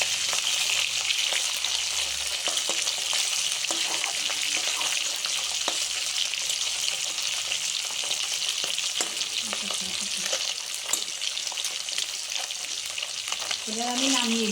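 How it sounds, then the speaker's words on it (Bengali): Fish frying in hot oil for a Bengali home-cooked dish, a steady loud sizzle running throughout with occasional scraping and clinks of a spatula, no talking. "মাছ ভাজাটা আমার হয়ে গেল।"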